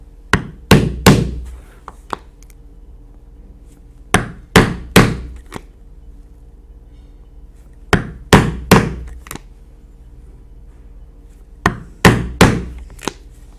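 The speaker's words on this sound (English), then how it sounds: "we'll punch 8 3/16 inch holes as shown on your pattern" A hammer drives a punch through leather chaps, making 3/16 inch holes: four groups of two or three sharp, close knocks spaced a few seconds apart, with no talking.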